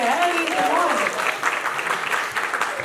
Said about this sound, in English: You can clap for me also, yeah?